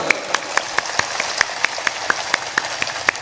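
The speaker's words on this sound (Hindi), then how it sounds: "ऐसी मरी मराई ताली बजाते हो, जोर से बजाना चाहिए" A thin audience at a devotional gathering claps in a steady, even rhythm of sharp, evenly spaced claps, fairly close and unaccompanied by talk.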